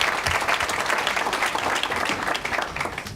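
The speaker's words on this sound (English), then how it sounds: "How about a round of applause?" Steady applause from a symposium audience fills the room, dense clapping held at an even level throughout.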